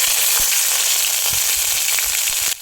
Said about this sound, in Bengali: আদার কাঁচা গন্ধ যাওয়া অবধি ভেজে নেব